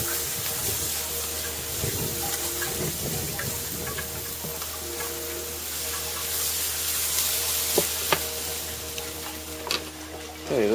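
Ribeye and fajita steaks sizzle on a grill as they are flipped: a continuous close crackling hiss with a few sharp clacks and spatters near the end.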